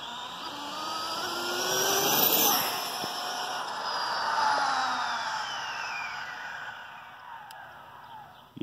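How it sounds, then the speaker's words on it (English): A V2 1515 motor drives an RC car during high-speed testing. The whine rises and falls as the car passes by twice, sweeping in pitch and fading between passes, with no speech. "that's the V2 motor in it"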